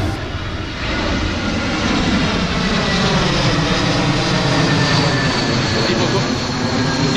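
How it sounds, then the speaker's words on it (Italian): A loud, close airplane flying very low, about 30 metres up, roars overhead, its engine noise swelling and holding as a broad, continuous rumble. "Tipo quell'aereo sarà a 30 metri d'altezza"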